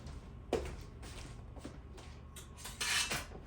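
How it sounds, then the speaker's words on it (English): Metal spoon picked up from among kitchen utensils while making a homemade blueberry cobbler with lemon juice, giving several light clinks and clatters spread over a few seconds, close by with no talking. "Let me get another spoon for mixing."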